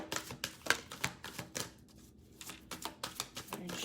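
Tarot cards being shuffled by hand, a run of crisp riffling and slapping bursts with a brief lull midway, close and fairly quiet.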